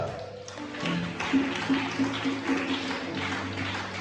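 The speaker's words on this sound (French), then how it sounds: "Acclamons le Seigneur." A church congregation applauding the Lord: a dense, continuous wash of clapping from many hands, moderately distant, steady throughout with a sustained musical tone underneath.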